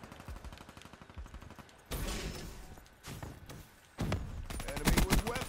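Kuda assault rifle gunfire in a video game, heard as rapid bursts of automatic fire in several loud clusters separated by brief lulls, with game sound around it.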